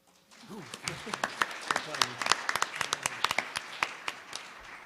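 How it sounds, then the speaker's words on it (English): Scattered audience applause for a speaker at a suicide and gun violence prevention event, a thin patter of separate claps from a small crowd, building then tapering, with a voice briefly heard near the start. "I invite applause."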